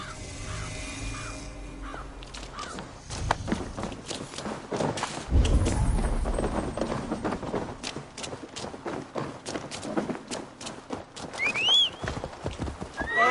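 Hooves clip-clop steadily as a horse moves along in a video game, with a neigh, birds calling and a low rumble in the background.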